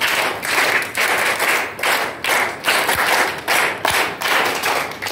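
Sunday school children clapping together in a rhythmic pattern, bursts of loud close claps repeated about every half second with short dips between.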